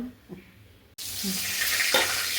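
Food sizzles and fries in a pan in a home kitchen, a steady broadband hiss that swells loudly after a brief quieter start and continues without talk.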